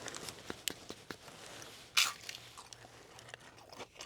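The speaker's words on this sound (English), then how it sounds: "Upgrade your sides to onion rings. These are always nice and crispy." Quiet, close crunching bites of crispy Culver's onion rings, with scattered crackles and one sharper snap, no talking.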